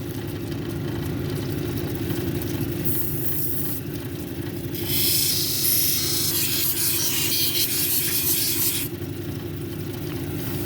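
A dendritic opal cabochon being domed on a 220 grit wheel gives a steady rubbing rasp over a constant machine drone. The grinding grows harsher and louder through the middle stretch, then eases back.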